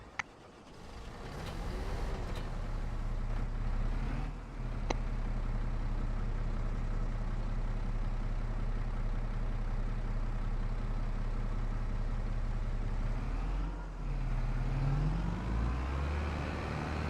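A Massey Ferguson tractor in Farming Simulator 25 runs with a steady, droning diesel engine hum that holds close and loud, dipping briefly once before picking back up.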